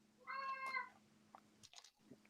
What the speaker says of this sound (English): The cat just joined us down here.